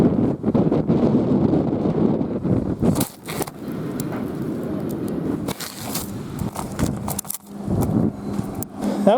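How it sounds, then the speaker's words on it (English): Strong outdoor wind buffets the microphone in loud, rumbling, continuous gusts with sharp blasts and crackles, near and heavy throughout. "The wind is so strong right now that the wind actually blew my camera tripod down."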